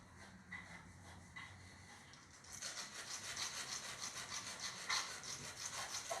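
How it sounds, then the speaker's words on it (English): Wooden hinge pieces for a business card box have their ends sanded flat, giving a steady rasping scrape that starts soft and grows louder and more rhythmic after a few seconds, with no talk. "sand the ends of the hinge pieces flat to get rid of any burrs on those pieces"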